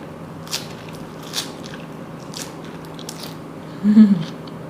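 Someone eats crispy pork belly with sticky rice, with soft crunches and bites close to the mic at intervals and a louder crunchy bite near the end, over a low steady background hum.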